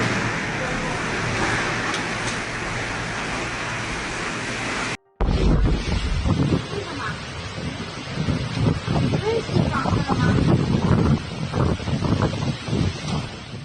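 Strong typhoon wind roars and buffets the microphone in heavy gusts, with a brief dropout partway through and rushing noise that swells and fades.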